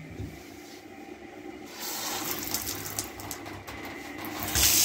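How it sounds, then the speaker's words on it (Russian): A washing machine runs in the bathroom of a rental flat in a St Petersburg new-build, switching from near quiet to a steady mechanical whir with irregular clicks and hiss, growing louder at the end. "Стиральная машина."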